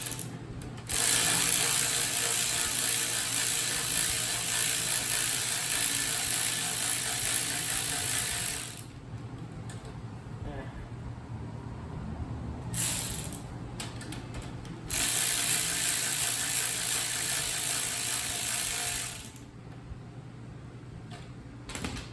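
Ratchet wrench backing off a 14 mm nut on a 1971 Honda CT70, fast continuous clicking in long bursts broken by short pauses and a few brief quick strokes, loud and close.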